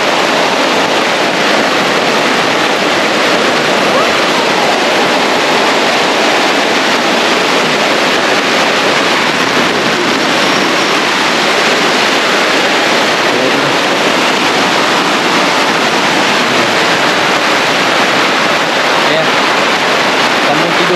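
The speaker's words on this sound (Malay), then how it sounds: "Tengah hujan. Makin lama makin lebat." Heavy rain pours onto a tent fly at a campsite, a dense, steady hiss and roar that stays loud and unbroken throughout with no voices.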